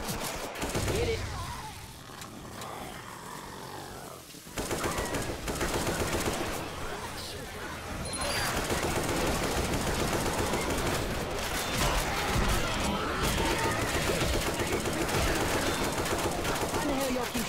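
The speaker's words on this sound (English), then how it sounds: "Why in the hell y'all keep shooting me?" Dense, sustained gunfire from the video game Left 4 Dead, rapid automatic bursts running almost continuously and loud throughout, with a brief lull early on and voices talking over the shooting.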